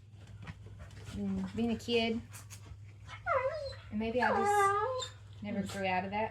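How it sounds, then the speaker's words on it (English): Pet dogs whimpering, whining and yodeling in a home while paper mache crafting goes on, high wavering cries rising and falling between and under a woman's close, steady talk. "If you hear my dogs in the background"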